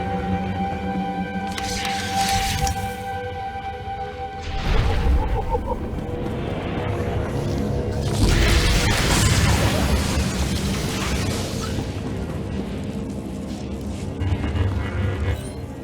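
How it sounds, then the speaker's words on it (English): Detonated charges boom in the SWTOR video game, several heavy blasts and crashes with rumbling debris spreading out over a droning background, one after another across a long stretch. "I heard the explosions when you set off the charges."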